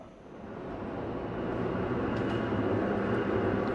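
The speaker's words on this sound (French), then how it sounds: "Remontons le temps et retrouvons-nous quelques instants dans le métro parisien où circulaient sur toutes les lignes ces rames historiques." A historic Sprague-Thompson train running on the Paris metro, a steady low rumble that swells from quiet into a sustained loud rolling roar with faint metallic squeaks high above.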